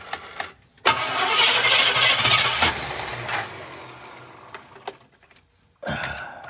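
A 1981 Pierre Cardin AMC car with a loose distributor cranks and fires up, then revs loudly for a few seconds before cutting out, with a short burst of engine noise returning near the end.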